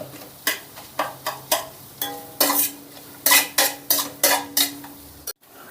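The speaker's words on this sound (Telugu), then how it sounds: "ఉల్లిపాయ క్యారెట్ ముక్కలు పచ్చిమిర్చి ముక్కలు ఇవన్నీ మెత్తబడేంత వరకు వేపుకున్నాం" Onion, carrot and green chilli pieces are stir-fried for street-style egg fried rice, with a regular series of sharp metal spatula strikes against the pan over a soft sizzle, close and without voices.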